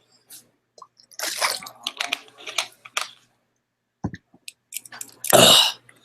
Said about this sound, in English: I felt like I was choking there